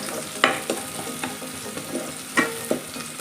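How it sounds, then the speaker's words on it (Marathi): Chopped onion sautés on medium heat with a soft, steady sizzle, and a spoon scrapes and stirs in several short, sharp strokes close by. "आपल्याला कांदा मध्यम आचेवर परतवायचा आहे"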